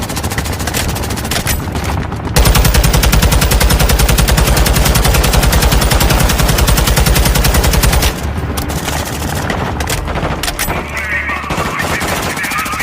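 Rapid automatic gunfire from several shooters in a video game as they try to bring down a helicopter over houses in a city centre; a dense, loud, continuous burst of shots runs for several seconds amid other scattered gunfire.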